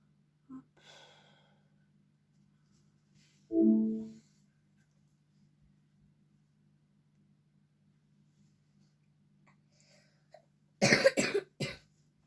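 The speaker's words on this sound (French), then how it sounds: "Tu as eu froid en dormant que tu tousses?" A person coughing a few separate times in a quiet room: a single soft cough early, a short throat sound in the middle, then a louder burst of several rapid coughs near the end.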